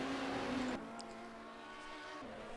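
Race cars at full throttle in a sim racing endurance event at Sebring, GT and prototype classes, droning as one steady engine tone that drops a little after the first second and then holds under the mix.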